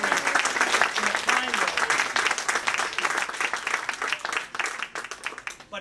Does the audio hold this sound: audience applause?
yes